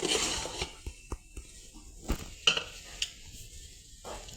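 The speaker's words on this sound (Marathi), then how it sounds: "इथं माझं गूळ फोडायचं चालू आहे" Jaggery being broken up in a home kitchen for puran poli, a series of sharp knocks and cracks at irregular intervals, fairly close and moderately loud, with faint rustling in between and no talking.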